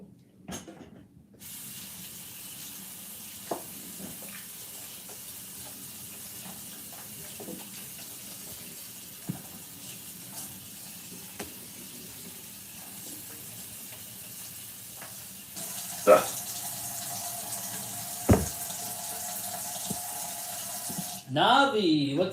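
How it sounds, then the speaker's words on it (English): A kitchen tap runs while something is rinsed. The room stays quiet and fairly still at first, then a loud, steady rush of water starts late and cuts off near the end. "Let me rinse this off."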